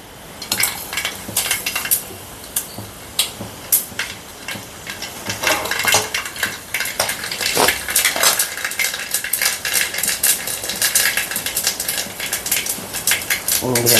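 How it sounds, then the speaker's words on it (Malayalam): Mustard seeds dropped into hot oil in a pan while cooking chicken curry, crackling and popping in dense, scattered bursts alongside utensil clatter, steady and close throughout. "എണ്ണ ചൂടായിട്ടുണ്ട് നമുക്ക് കടുക് ഇട്ട് കൊടുക്കാം"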